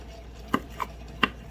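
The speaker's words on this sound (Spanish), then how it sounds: "voy a picar cilantro y ya" A knife chops fresh cilantro for chicken tacos, three sharp, close cuts spaced unevenly with a quiet pause between, with no talking.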